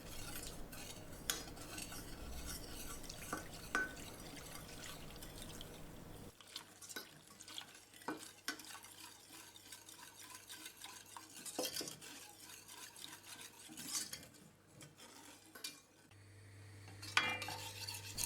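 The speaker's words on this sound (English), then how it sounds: "I'm gonna mix in a small pot the sugar and pudding mixture." A spoon stirs sugar, pudding mix and cold milk in a small pot, scraping and clinking steadily against the sides for a long stretch with light drips, no talk.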